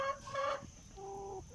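Chickens in a coop give a few soft, short clucks close by, followed by a steadier held call, with faint background noise.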